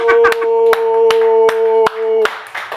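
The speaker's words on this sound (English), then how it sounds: "And y'all clapping for that shit?" A studio group on a basketball talk show claps in a steady beat, about eight sharp loud claps spaced evenly over a sustained, humming tonal sound.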